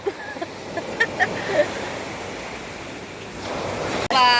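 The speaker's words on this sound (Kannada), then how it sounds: "ಅಲೆ ಎಲ್ಲ ಉಂಟು ಟೀಪಲ್ಲಿ ಕುತ್ಕೊಂಡ್ರು ಸ್ವಲ್ಪ ಅಲೆ ಎಲ್ಲ ಉಂಟು" Sea waves wash onto the shore near Malpe on the Karnataka coast, where crabs are netted, giving a steady, close broadband rush with a few soft surges.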